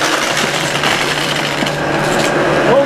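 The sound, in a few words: SEBO 9808AM Felix upright vacuum cleaner motor running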